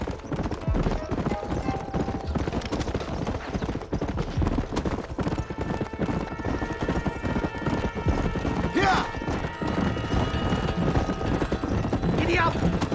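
Horse hooves galloping in the video game Red Dead Redemption, a steady rapid clip-clop running throughout under game music and effects, with a brief spoken call.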